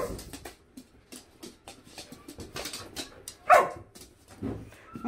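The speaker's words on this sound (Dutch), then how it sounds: "Moet je echt dan met pakken gaan blaffen?" Dog barking indoors, a run of short sharp barks and yips spread across several seconds with one louder burst near the middle, fairly close.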